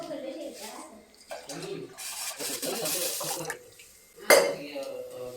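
Water runs and splashes into a metal vessel, two chombu pots filled with drinking water, with a brief clink of a pot, while a person talks over it.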